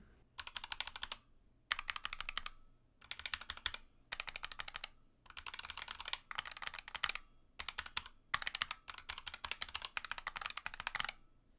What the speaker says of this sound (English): a quick sound test for you guys back to back of just some ABS keycaps I pulled off my regular Razer Huntsman and a couple of these PBT keycaps